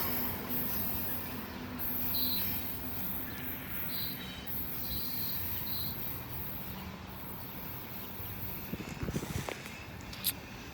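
A long coal train rumbles steadily past at a distance, with a continuous roar and faint metallic squeals of wheels.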